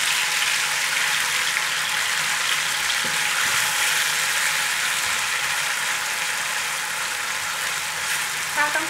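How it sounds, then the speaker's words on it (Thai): Marinated sliced pork stir-fried in a pan with garlic and pepper gives a loud, continuous sizzle and hiss throughout, with a few faint utensil clinks near the end. "ใส่หมูที่เราหมักไว้ลงไปได้เลย ค่ะแล้วก็ค่อยๆผัดไปจนสุกนะคะ"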